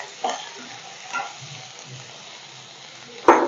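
Vegetables fry slowly in a pan over low-medium heat, a soft continuous sizzle broken by a few scraping stirs of a spatula, the last one sharp and close.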